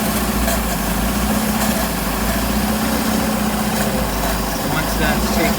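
A boat engine runs steadily at idle during winterizing while fogging oil is sprayed into the carburetor, a loud continuous drone with no break.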